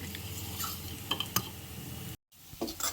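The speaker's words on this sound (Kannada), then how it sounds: "ಆಲೂಗಡ್ಡೆ ಮತ್ತು ಬಟಾಣಿ ಕಾಳು ಸರಿಯಾಗಿ ಹೊಂದ್ಕೊಳ್ಳುವಂತೆ ಸ್ವಲ್ಪ ಇದನ್ನು ಈ ಥರ ಮಿಕ್ಸ್ ಮಾಡ್ಕೊಳ್ಬೇಕು" Potatoes and peas are stirred in a frying pan, with a steady sizzle and scraping spoon clinks against the pan, a brief gap of silence, then more stirring and light knocks resuming.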